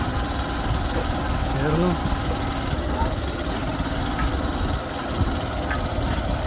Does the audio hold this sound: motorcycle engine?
yes